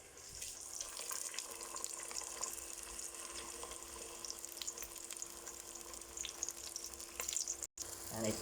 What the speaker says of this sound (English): Next up is to saute our onion.